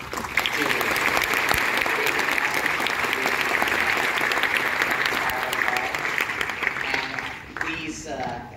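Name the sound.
audience applause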